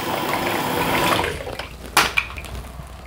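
Water runs steadily over a Pitbull Platinum Pro shaver head to rinse off soap suds, a continuous splashing hiss that eases off, followed by a couple of brief knocks.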